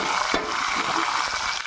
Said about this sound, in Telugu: అవి బాగా ఫ్రై చేసుకుందాం.